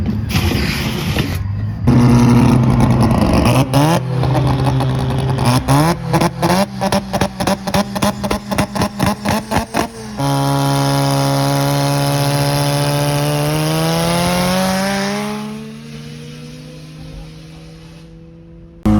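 A drift car doing a burnout at a drift competition, its engine bouncing off the limiter in rapid stuttering bursts, then holding a long, loud, steady high-rev scream before easing off near the end.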